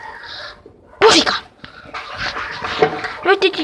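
A pet dog makes short sneezing snorts and panting sounds close by, bursts of nasal noise between pauses, while a person talks over it.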